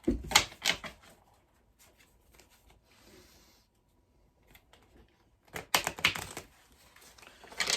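Quick riffling bursts of tarot cards being shuffled, two clear flurries at the start and end with quiet soft shuffling in between.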